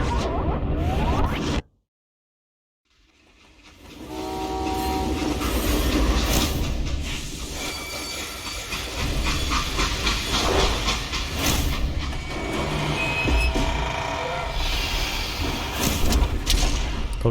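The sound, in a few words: train stopping and hissing steam in Call of Juarez Gunslinger video game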